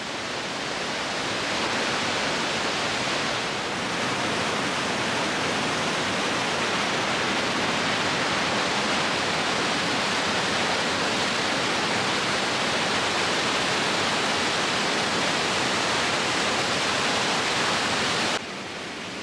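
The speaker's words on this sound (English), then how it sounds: "You hear the water." Texolo Waterfall in Xico, Veracruz roars in a steady, loud, broadband rush of falling water that never breaks, with no voices over it.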